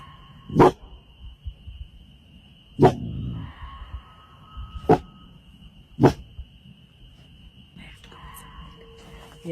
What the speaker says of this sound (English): Her dog suddenly starts barking